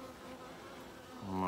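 Honey bees in a crowded top bar hive during a midsummer inspection hum in a faint, steady drone that swells louder at the very end.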